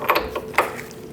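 A few quick ratchet clicks sound up close as a ball joint bolt is snugged on a 2000-2006 Mini Cooper front suspension, brief and fairly loud.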